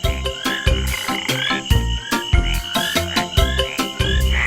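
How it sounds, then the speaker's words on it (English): Green tree frogs call loudly and close by in a rapid run of repeated, rhythmic croaks with a dense harmonic rasp, no voices over them. "green tree frogs are sometimes known as rain frogs"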